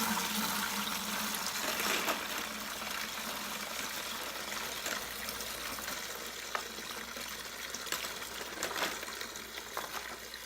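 Water and spent brass cartridge cases pour from a 5-gallon bucket into a case sifter, making a continuous loud hissing splash with scattered metallic clinks, steady throughout.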